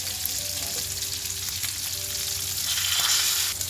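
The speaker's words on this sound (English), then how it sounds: "so we need to make sure our fish head fry very well." Hilsa fish head frying in hot oil in a Bangladeshi restaurant kitchen, a loud, steady, close sizzle that continues without a break and with no talking.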